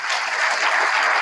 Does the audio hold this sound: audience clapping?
yes